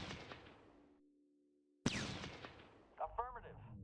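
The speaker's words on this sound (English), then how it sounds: "let's get a ranged attack with the artillery only" Artillery in the strategy game Shadow Empire fires a ranged attack: a sudden loud blast, a burst of crackling impacts, and then a short tonal chirping effect near the end.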